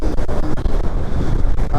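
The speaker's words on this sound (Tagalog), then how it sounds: "Problem is napakahangin." Strong wind buffets the microphone outdoors as a loud, continuous low rumble with gusty thumps, and no other sound comes through it.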